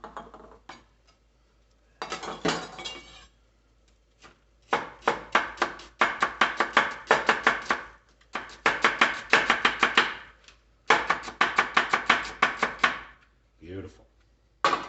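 A knife chops celery on a cutting board in quick, close, rhythmic bursts of sharp taps, grouped into several runs separated by brief pauses.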